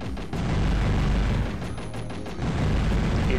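A plate blowing up in the game Cheesy, heard as a loud, rumbling blast with crackling bursts that fills the whole moment and swells again at the end.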